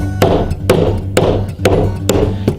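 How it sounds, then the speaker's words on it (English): Five sharp, evenly spaced blows of a mallet on a 2-inch framing chisel cutting with the grain into timber for a timber-framed workbench, each strike crisp and close, roughly half a second apart over a steady low hum. "I could use my full 2-inch framing chisel here and remove a lot of this really quickly"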